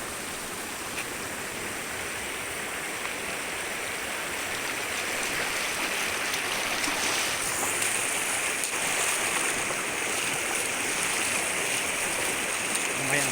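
Fast water of the Ciliwung river rushes steadily nearby at about knee depth, a broad, even wash that swells slightly louder partway through with no voices.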